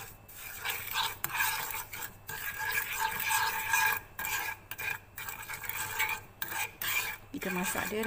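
Sugar and water cooking into caramel in a pan, stirred steadily with a utensil scraping and rasping against the pan in continuous strokes with short pauses, close and fairly loud.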